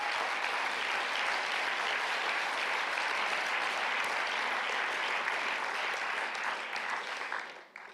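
Steady applause from a World Vision employee forum audience, dense and continuous for several seconds before tapering off abruptly.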